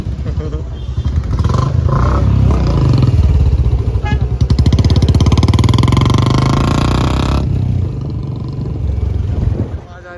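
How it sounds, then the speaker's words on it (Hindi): A loud Royal Enfield Bullet 350 motorcycle with an aftermarket silencer rumbles and revs with a deep, throaty exhaust note, swelling and then dropping away near the end, with a voice faintly underneath. "कैसी लग रही है बुलेट की आवाज़ ये ज़रूर बता देना"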